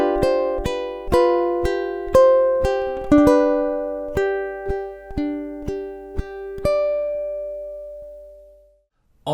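Ukulele picking out two measures of a song, a steady run of bright plucked notes with clear attacks, close and alone, the last note ringing out into silence.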